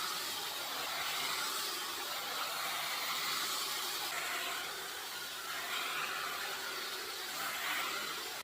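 A Luxx Air Pro hair styler with its brush attachment blows a steady, close airy whoosh with a high hiss. It holds constant across the whole stretch, with only slight swells as the brush moves through hair.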